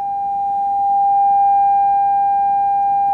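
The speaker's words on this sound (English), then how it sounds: "And that is a demonstration of constructive and destructive interference using a redneck trombone." A steady pure tone at about 800 Hz, made with a makeshift redneck trombone tube in a wave interference demonstration, holds loud and constant for three seconds, its level swelling slightly mid-way, with no talking.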